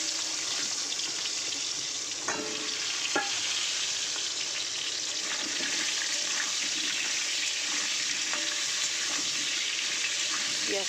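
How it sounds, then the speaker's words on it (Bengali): Potatoes frying in hot oil in a home kitchen make a steady, loud, close sizzle with occasional crackles and pops throughout. "তো তেলের মধ্যে আগে আলুগুলো দিয়ে দেবো।"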